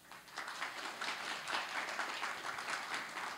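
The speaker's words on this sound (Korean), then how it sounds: "여러분 따뜻한 박수로 맞아주시면 감사하겠습니다." Audience applause welcoming the chairman of the Korea Employment Agency for Persons with Disabilities at an employment consulting results-sharing event, a steady wash of many hands clapping held at even loudness throughout, with no speech over it.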